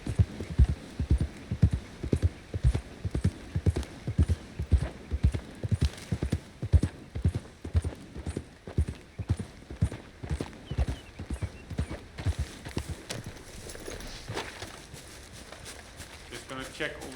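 A horse's hooves pound in a strong, regular rhythm while riding in Red Dead Redemption 2, close and prominent, then easing and fading toward the end as the horse slows.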